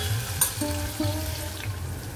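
Chunks of yam sautéing in ghee in a pan give a steady low sizzle, broken by a couple of soft stirring scrapes, with no voices.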